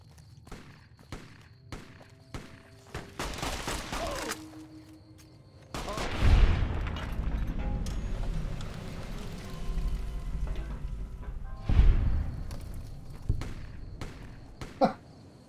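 Gunfire in Fallout: New Vegas, scattered shots at first, then louder sustained firing with heavy blasts amid battle noise.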